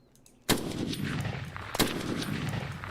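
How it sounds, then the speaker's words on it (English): A gun fires in the video game Unturned, with two sharp, loud single shots about a second apart, each followed by a long echoing tail that carries into the distance. "I love the sound of this. Like, the actual sound of this gun."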